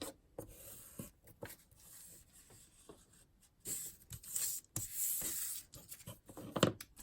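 Scored paper for journaling cards is folded and creased by hand, a quiet run of soft rubs and papery scrapes coming in short bursts separated by near silence, with no one talking.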